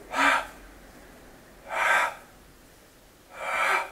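Three deep, breathy inhalations during a pelvic floor exercise, each about half a second long and spaced evenly apart, close and fairly loud with quiet between them.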